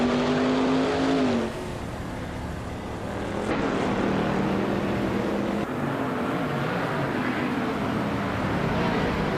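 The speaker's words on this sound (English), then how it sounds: "We're just about to watch some exciting AI cars race against each other" AI-driven race cars, including a 2006 Panoz Esperanti GT, roaring around a track in a racing video game, with continuous loud engine drone and shifting pitch as cars pass and gears change, with no talk.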